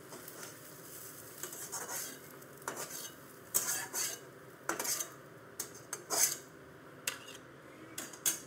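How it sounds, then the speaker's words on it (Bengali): Fried onions being scooped from a pan with a metal utensil for an egg bharta, giving a run of scraping clinks and taps of varying loudness, close by, with no talking. "পেঁয়াজটা আমি ভেজে নিয়েছি, এখন তুলে নেব।"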